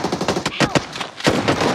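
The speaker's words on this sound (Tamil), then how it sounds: "எத்தனை புல்லட் அடிக்கிறான்பா அவனை" Rapid automatic gunfire from the mobile battle-royale game BGMI, a loud, dense stream of shots in quick bursts with a brief gap partway through.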